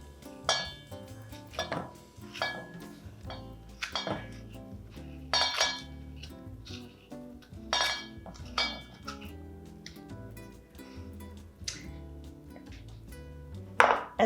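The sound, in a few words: spoon scooping out vegetables for Armenian dolma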